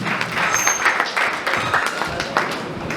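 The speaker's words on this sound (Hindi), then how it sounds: "एक बार जोरदार तालियां पूरे इन सबके लिए।" Steady crowd applause at a youth group event at a resort and water park in Bhiwandi, a continuous moderate wash of clapping with soft pulses throughout, no clear voices on top.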